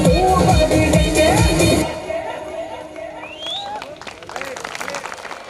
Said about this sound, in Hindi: अभी भी तालियां बज रही है